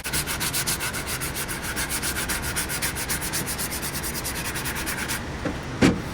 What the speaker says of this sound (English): Sand my edges.